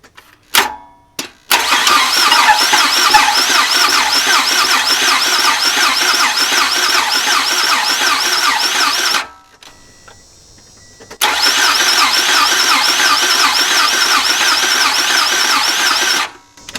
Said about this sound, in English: the engine's turning over now, so the starter was one issue, but it's still not cranking up